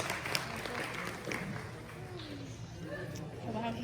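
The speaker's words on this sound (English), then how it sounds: "Give her a round of applause." Audience at a steampunk convention costume contest clapping for a contestant, a light scattered patter under a host's continuing talk, fairly quiet and somewhat distant.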